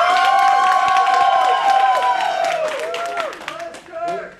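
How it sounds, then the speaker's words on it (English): A convention Q&A crowd at Florida Supercon 2012 claps while loud cheering and yelling voices ride over the top, with the noise dropping and breaking up toward the end. "let's hear actually from a round of applause so we get an idea"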